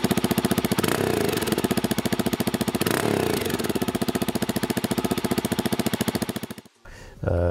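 Mash X-Ride 650 Classic single-cylinder engine idling close by, its exhaust thumping in a steady, loud pulse that cuts out briefly near the end before the engine catches again.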